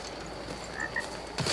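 A frog croaks in the video game Blacktail, a couple of short, faint calls over quiet ambient background, followed by a brief louder rustle at the end.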